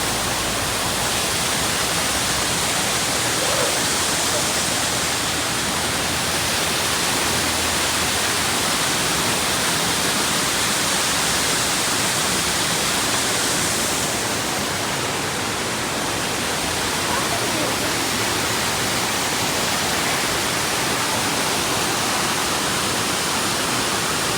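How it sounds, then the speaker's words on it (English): Indoor waterfall in a large hotel atrium at the Gaylord Opryland Hotel in Nashville, a dense, constant rushing roar of falling water that stays loud and even throughout with no voices. "that waterfall over there"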